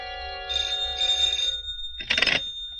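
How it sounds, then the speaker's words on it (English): An old-style telephone rings in a police radio crime drama, giving two bright, close buzzing rings, then a sharp clatter as the receiver is picked up. "At 8, my phone rang."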